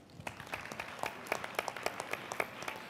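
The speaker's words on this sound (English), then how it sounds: "A round of applause for Stephanie C." Scattered applause from a small panel audience at the Social Good Summit 2016. The claps are sparse and individually distinct, and the applause stays fairly quiet for a few seconds.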